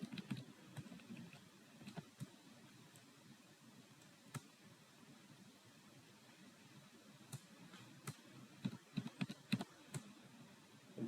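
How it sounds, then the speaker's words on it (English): Computer keyboard keys tapped while nudging shapes in MS Visio with the shift and arrow keys, scattered sharp clicks in short irregular bursts over a quiet room hum, close and faint, with no talk. "we can do by pressing shift and use the arrow keys"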